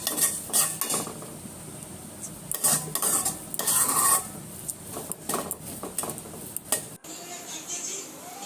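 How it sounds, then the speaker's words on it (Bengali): Onion, green chilies and garlic frying in a pan and being stirred with a utensil, giving steady close sizzling broken by repeated scraping and clinking strokes, then a brief cut to a quieter sizzle near the end. "পেঁয়াজ মরিচটা আমি ভেজে নিচ্ছি"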